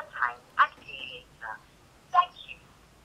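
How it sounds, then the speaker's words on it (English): A phone placing a quick missed beep call on the Airtel network, giving a few short, clear electronic chirps and tones at moderate volume with pauses between them. "It will sound like this, but it will make a quick missed call on the other side"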